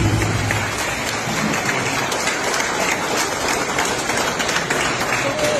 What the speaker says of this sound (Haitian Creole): Sous applaudissement, s'il vous plaît.